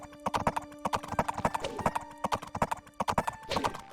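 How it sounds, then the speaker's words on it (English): Cavalry hooves clip-clop in quick, dense bursts in an Age of Empires battle with heavy horse archers and cataphracts, with a neigh or whinny partly audible among the steady galloping clatter. "There's a heavy horse archers and cataphracts."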